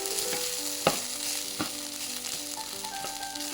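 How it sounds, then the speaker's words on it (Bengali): Rice grains frying in a pan over lowered heat, a steady close sizzle with a few sharp clicks and pops of stirring, no voices. "এদিকে এটা ভাজা হতে থাকুক চালটা"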